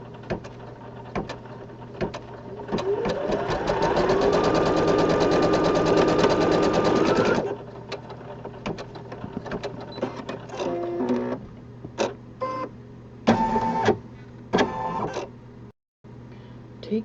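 A home embroidery machine stitches a horizon placement line for two background fabrics on a small 4x4 rainbow design, giving a steady, rapid mechanical whir for a few seconds before stopping, followed by scattered clicks and handling noises.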